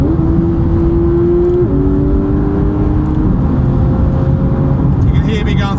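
A Porsche GT3 engine climbs and drops through the gears, a loud, constant droning note stepping in pitch as each gear changes, heard from inside the car without talk.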